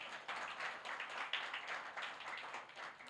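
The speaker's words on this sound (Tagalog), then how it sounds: "Pumalakpak ang agree dyan." Church audience clapping together during a sermon, a dense, steady patter of many hands heard from a moderate distance, fairly faint and sustained for about three seconds.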